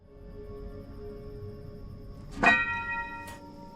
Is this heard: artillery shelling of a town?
no